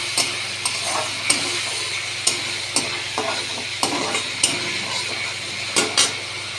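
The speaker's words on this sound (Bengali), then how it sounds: "দিয়ে একটু কষিয়ে দিচ্ছি" Spices being stir-fried in a pan with a splash of hot water for a boal fish curry, giving a steady low sizzle punctuated by repeated scraping clinks of a spoon against the pan.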